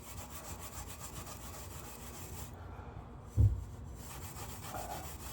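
Steel wool rubs rust off the chrome of a 1994 Honda Gold Wing 1500 Aspencade, a steady soft scrubbing texture throughout, with one brief louder knock near the middle.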